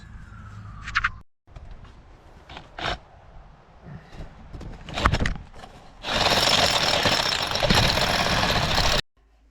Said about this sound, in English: I'm now having to upgrade to this thing, big old 25mm SDS.